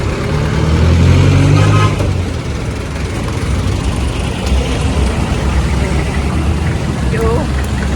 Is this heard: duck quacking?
no